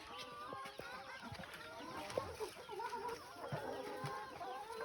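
Chickens on a Thai farm stay cluck and murmur close by in a busy, continuous chatter, with a dog among them and occasional faint voices in the background.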